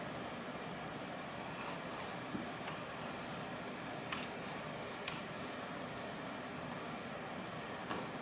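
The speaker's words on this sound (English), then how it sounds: "I'm going to go ahead and clip off trim my seam allowances and clip off these little edges here." Scissors trim seam allowances and clip the corners of a fabric bag, a few faint, sparse snips over a quiet steady hiss, with no talking.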